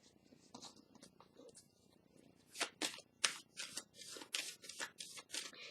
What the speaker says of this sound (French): On va piger une carte ici.